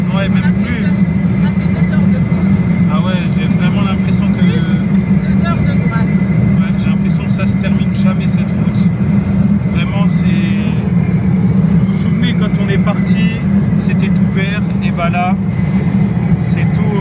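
Steady low engine and road rumble from a car travelling a long, seemingly endless sandy road out of Annaba, Algeria, continuous throughout with voices chatting inside the cabin.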